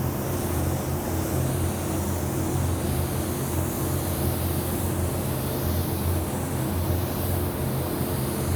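A steady, continuous hiss of a spray gun laying down a medium wet coat of candy-colour paint over a quicksilver base, broad and even throughout with no pauses or talking.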